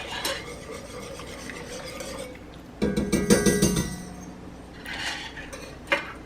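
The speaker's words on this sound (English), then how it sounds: "I'm gonna whisk this in too." Whisk stirring ingredients into a pot of seafood sourdough chowder, a steady scraping swirl with a louder, clinking burst of metal against pot midway, close and without talk.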